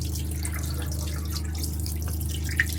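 Water runs steadily from a motorhome tap during a check of the water heater, a continuous even flow with faint drips and a low mechanical hum beneath, close by and alone without any voices.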